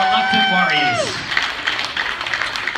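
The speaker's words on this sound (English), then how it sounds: "Let's get a round of applause for our volunteers" Applause from a carnival show audience for volunteers, broad clapping that starts after a loud voice trails off and continues steadily to the end.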